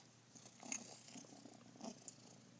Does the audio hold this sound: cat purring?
yes